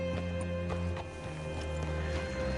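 Horse hooves clip-clop steadily in Red Dead Redemption, evenly spaced hoofbeats sitting under a constant tonal hum of game ambience.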